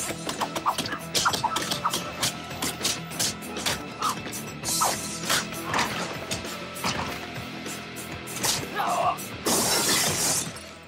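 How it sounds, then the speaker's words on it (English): Glass case shattering in a Steven Seagal action movie fight, a man thrown through it; several loud crashing smashes with scattered tinkling debris, the biggest burst near the end, with faint background sound. "Steven Seagal picks him up and throws him into a glass case, and it kills him"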